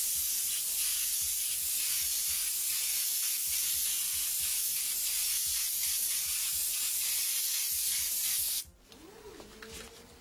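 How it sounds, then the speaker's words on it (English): A spray can lays down a medium coat of reddish brown paint in a continuous close hiss with brief gaps, then cuts off abruptly near the end, leaving quiet room noise. "Take our reddish brown color again, spray that on, medium coat"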